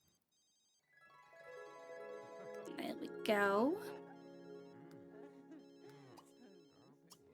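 A telephone rings in The Sims video game, a repeating electronic ring tone under someone talking over it, with a brief bright chirp midway.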